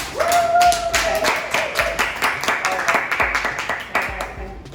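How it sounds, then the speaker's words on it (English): An audience at a STEAM summer camp presentation claps in a dense, moderately loud burst with sharp individual claps, while a tonal sound or voice carries over the first part and fades. "if you all give them all a welcome and clap"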